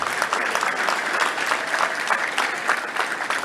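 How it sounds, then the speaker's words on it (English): Audience applause at a touchdown club meeting, a steady, fairly close wash of clapping from a room full of people throughout. "Let's give them a round of applause."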